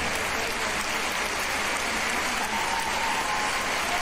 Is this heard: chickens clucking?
no